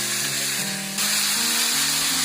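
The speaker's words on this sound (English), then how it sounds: "Put this meat in the pan and saute" Meat for chili sautéing in a pan, a continuous bright sizzle and hiss with a faint steady hum beneath, loud and close throughout.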